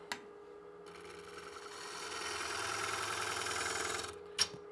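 A gouge cuts into a spinning wooden bowl blank on a lathe, laying out the bowl for coring with a Oneway Easy Core; a steady, rising cutting rasp over the lathe's hum, framed by brief knocks at start and end.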